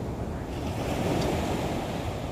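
Large ocean waves break and wash steadily along Nha Trang beach, a continuous loud surf roar with wind noise across the microphone and no voices.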